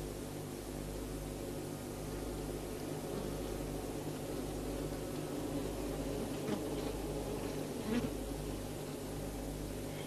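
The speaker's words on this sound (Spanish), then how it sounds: "Gracias al permanente aleteo de las abejas obreras" Worker honey bees buzz inside a hive, a dense, continuous drone of wingbeats heard up close, steady and fairly faint throughout.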